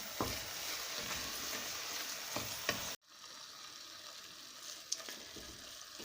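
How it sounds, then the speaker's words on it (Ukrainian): Minced meat stews and sizzles in a pan while being stirred constantly, a steady frying hiss with scraping stir sounds that drops to a quieter simmer halfway through. "Е, фарш вже втушився, такий все окремо, розсипчасти гарно. То потрібно постійно перемішувати"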